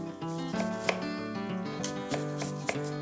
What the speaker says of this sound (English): I'm just really gonna make small slices